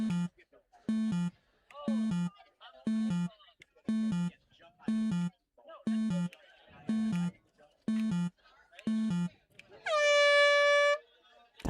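Repeated rhythmic horn blasts at a competition stage of a world championship, followed by one long, loud air horn marking the end of the timer.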